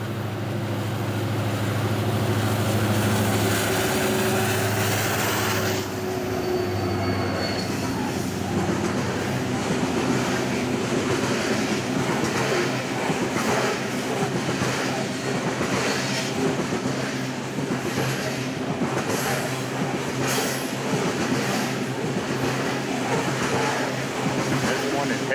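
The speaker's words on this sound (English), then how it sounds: "I then went to Cromwell to catch this local BNSF train coming in." A local BNSF freight train rolls past close by at Cromwell, heading eastbound, with a loud, continuous rumble and rhythmic clattering of wheels over rail joints, a horn-like tone early on.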